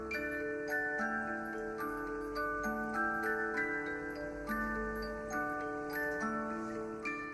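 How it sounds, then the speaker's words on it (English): A traditional German cuckoo clock ticks steadily and evenly, heard close and alone while a soft melodic tune plays over it. "makes these traditional German cuckoo clocks such timeless treasures"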